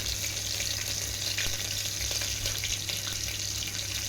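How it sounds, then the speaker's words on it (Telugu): Mustard seeds, cumin, chana dal and urad dal frying in hot oil for a tempering, a steady close crackle and hiss of oil running throughout with small pops. "ఆవాలు, జీలకర్ర, శనగపప్పు, ఇంకా మినపప్పు యాడ్ చేసుకున్నాక అది కొంచెం ఫ్రై అయ్యాక"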